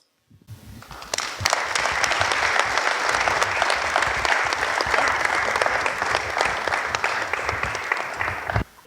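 Audience applause fills a hall at a 2017 campaign gathering in Brussels, a dense, steady clatter of many hands that starts abruptly, holds evenly for about eight seconds, then cuts off.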